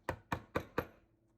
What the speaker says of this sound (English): Here, I use a mallet as it has still good enough amount of material left to the final line.